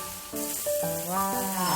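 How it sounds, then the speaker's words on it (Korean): Pork jowl sizzles as it fries on a hot pan, a steady close hiss with some higher tonal notes rising above it. "지글지글지글."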